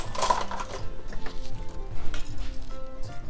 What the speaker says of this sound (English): I'm just whisking all of this in really well, especially the powdered goat's milk